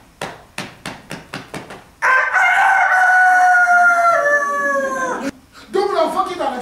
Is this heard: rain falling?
no